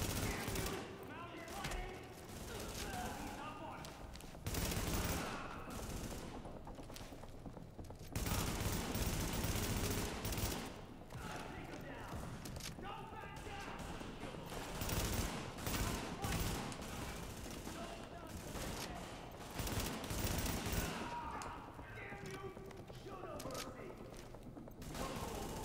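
Shotgun blasts in The Division ring out repeatedly amid a dense, ongoing firefight, loud and clustered, with a player talking over the gunfire.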